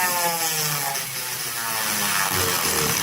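A homemade CNC router with a worn bushing whines continuously as it cuts a pass, a loud close motor drone with a steady grinding texture and no talk.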